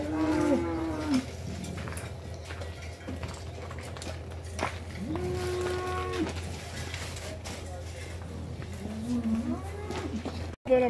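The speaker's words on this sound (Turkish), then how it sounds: "Yani simental hayvanlar genelde uysal oluyor ama bu yerli sığır diyorlar buna. Bu hayvana biraz asi oluyor." Native cattle at a busy livestock market moo and low repeatedly over a steady crowd hubbub, with several calls overlapping at moderate distance and voices faintly in the background.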